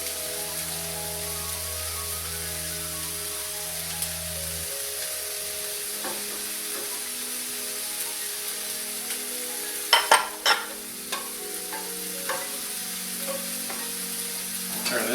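Half and half is stirred into vodka sauce simmering in a pot. A steady sizzling bubble comes first, then a quieter simmer broken by a few sharp spoon knocks and scrapes against the pot, with no one talking.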